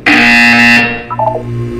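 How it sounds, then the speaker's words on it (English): A harsh electronic buzzer from the Portal 2 video game sounds loud and steady for under a second, then cuts off, followed by a short soft chime-like tone. "You will hear a buzzer."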